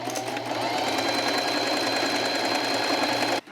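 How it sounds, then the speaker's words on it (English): A sewing machine stitches along the sides of blackout curtains in one rapid, continuous run, close and steady, then stops abruptly near the end. "I'm going to sew up the sides, and then I'm going to flip it inside out and sew it up the sides again"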